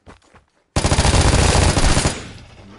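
Rapid automatic fire from an MG3 machine gun in the shooter game Vigor bursts in loud and close, a sustained rattling volley of about a second and a half that then cuts off and fades.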